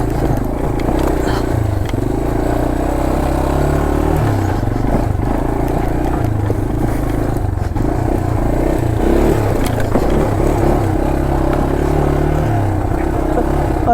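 A 1983 Yamaha Tri-Moto 200 three-wheeler rides along small bumpy trails, its engine droning steadily and loudly throughout, with shifting revs and some rattling and clatter from the machine.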